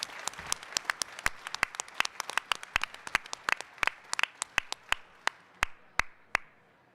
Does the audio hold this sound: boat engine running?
no